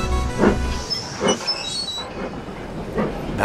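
A steam locomotive shunting trucks and coaches in a railway yard, with rhythmic puffs of exhaust, hissing steam and faint clanking, fairly close.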